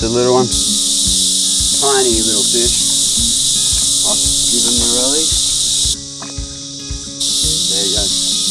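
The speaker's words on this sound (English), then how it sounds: "It's so hot, you can hear the cicadas in the background," Cicadas droning in a steady high, loud buzz on a hot day beside an Australian bass-fishing spot, cutting out briefly before resuming, while someone talks over it and fishing gear clicks.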